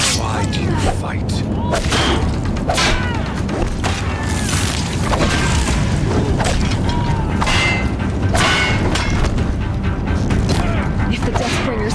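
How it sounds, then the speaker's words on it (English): Deathbringer machines firing on a bridge in Horizon Zero Dawn: loud repeated booms, thuds and mechanical clanks in dense bursts, with voices talking over the barrage. "If the Deathbringers keep firing, this bridge will go."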